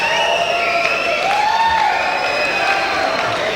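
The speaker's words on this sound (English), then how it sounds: "That applause is not for the fighters, it's for the lovely young round girl" A boxing arena crowd applauds and murmurs between rounds in a steady, distant roar of clapping and cheering, while a commentator talks over it.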